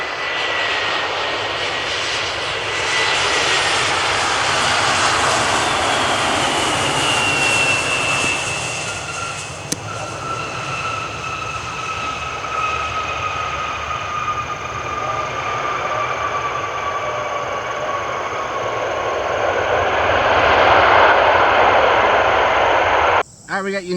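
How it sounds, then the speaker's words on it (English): A United Boeing 777-200 heavy jet airliner inbound to land at Cleveland Hopkins roars loudly and steadily overhead, its engine whine sliding in pitch as it passes, with a brief click near the end. "we got United 2569 Heavy 777-200 inbound from Chicago"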